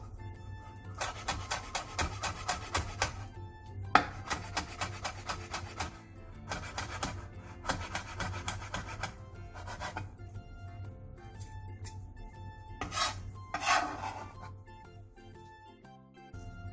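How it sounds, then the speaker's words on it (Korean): A knife slices the split green part of a green onion (daepa) on a cutting board in quick bursts of crisp, rapid taps, paused between runs, quiet and close. "대파의 초록 부분을 길게 갈라준 뒤 쫑쫑 썰어주세요."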